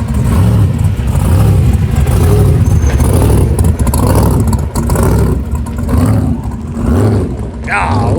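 A hot rod's engine rumbles loudly at a street car block party, revving and clattering in rough, throaty surges. Faint crowd voices mix in beneath the roar.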